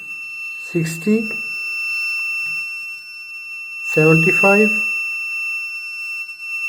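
A water level meter with no sensors connected gives a steady, continuous electronic beep tone throughout, while someone speaks briefly over it.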